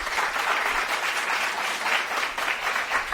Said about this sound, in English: let's give a round of applause to Professor Short,